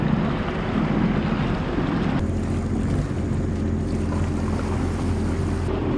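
A Sea-Doo personal watercraft runs close along a granite rock wall on Georgian Bay, giving a steady engine drone mixed with wind buffeting and water wash, loud and continuous, with no talk.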